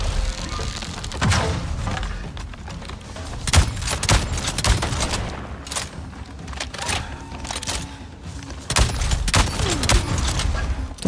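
Video-game gunfire from Avatar: Frontiers of Pandora cracks out as loud, close shots, some single and some in quick pairs, spaced irregularly across a busy rumbling battle background.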